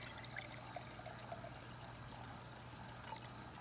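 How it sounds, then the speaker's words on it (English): Water is poured into a jar for a dancing-corn kitchen science experiment, giving a steady, quiet trickle and splash throughout with faint bubbly tinkles; a low constant hum sits underneath and nobody speaks. "I'm going to start with my jar and I'm going to pour it about halfway full with water"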